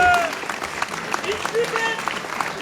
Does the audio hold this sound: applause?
yes